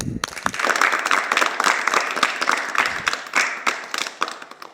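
An audience claps steadily for a young girl at a children's gathering, a dense burst of many hands filling the whole moment with no voices over it.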